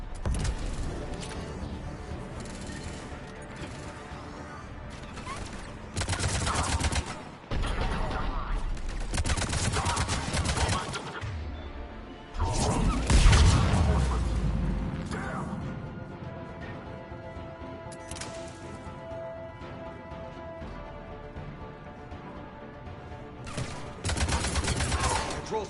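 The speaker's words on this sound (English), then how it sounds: "The cannon fire is clearing the way." Heavy cannon fire from a Krogan relic cannon in Mass Effect 3, booming in loud repeated bursts over a dense bed of battle noise and rumble for the whole stretch.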